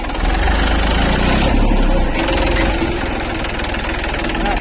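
A farm tractor engine idles close by, loud and steady with a chugging, slightly knocking low rumble and no break in the sound.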